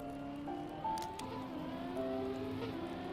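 Race car engine in the Trackmania video game, a steady droning whine with shifting pitch as the car drives, continuous and fairly even in loudness throughout.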